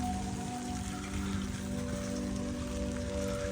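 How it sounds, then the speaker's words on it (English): Rain patters steadily on leaves and the ground in the woods during an evening walk, a soft continuous hiss with a low hum underneath. "I absolutely love the rain"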